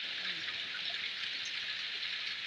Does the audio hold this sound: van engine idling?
no